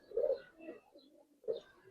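Domestic pigeons of a free-flying breed cooing nearby: two soft, low, throaty coos separated by a short gap, with no talk over them.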